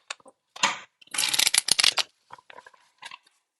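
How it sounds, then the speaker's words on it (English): Tarot cards being shuffled by hand, with several bursts of riffling and flicking followed by lighter taps, close and clear with no talk. "Last shuffle."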